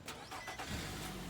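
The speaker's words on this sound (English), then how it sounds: "Push button start." A car engine cranks and catches after a push-button start, then settles into a steady idle, heard close and alone for about a second.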